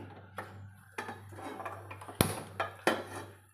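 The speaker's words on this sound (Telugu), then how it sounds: "ఇప్పుడు ఇట్లా స్టవ్ మీద మూకుడు పెట్టి స్టవ్ ఆన్ చేసుకొని" A wok set down on a kitchen stove makes several light metallic clanks and knocks, with one sharper clatter near the middle, close and fairly quiet over a steady low hum.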